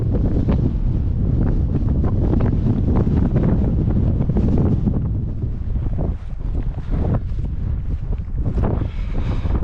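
Breezy wind buffets across a foggy open hill along a Bronze Age stone row, a continuous loud gusting roar that swells and eases, with no voices.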